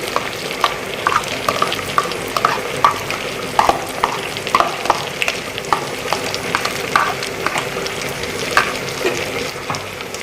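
Masala paste ground from tomato, onion, cashew and garlic is stirred into butter chicken in a hot pan, with a steady sizzle of frying and repeated scraping strokes of the spoon at a fairly even rhythm, close and clear with no talking.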